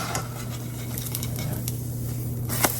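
Pancake batter sizzling in hot oil in a pan, a steady frying hiss with light scraping and a soft clack as it is flipped near the end.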